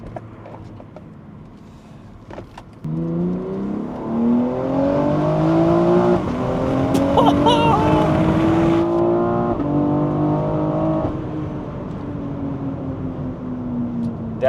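BMW F97/F98 X3M or X4M (EU spec) with an equal-length OPF delete exhaust, loud close revving with rising harmonic engine tones and crackling burbles over several seconds.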